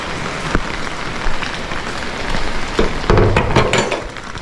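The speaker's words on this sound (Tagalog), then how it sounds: "Ulan." Rain patters steadily and fairly loudly on a surface, a dense hiss broken by scattered heavier drops and taps, with no voices.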